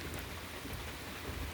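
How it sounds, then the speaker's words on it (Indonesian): Heavy rain pours steadily and loudly on a road where a landslide threatens, a dense unbroken wash across the whole short stretch with no voices. "ditambah hujan deras ditakutkan akan longsor"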